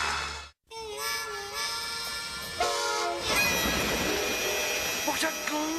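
A cartoon train rumbles and clatters along with horn-like tones and a bright whistle, loud and busy throughout, briefly cut off near the start, with voices mixed in over the action.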